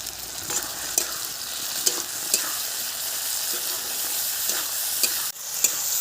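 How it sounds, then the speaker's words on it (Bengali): Spice mixture with turmeric, added after onion and tomato, frying in a pan for a mustard-paste koi fish curry: a continuous close sizzle broken by regular scraping stirs, with no voices. "মশলাটা একটু ভাজা হোক"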